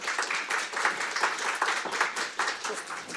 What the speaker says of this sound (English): Let's give them also a warm applause.